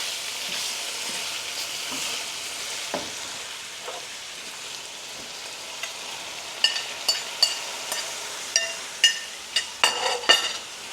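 Meat for shalgham gosht sears in a pot, a steady hiss of frying under a run of sharp ladle-and-pot clinks and scrapes that grow busier toward the end.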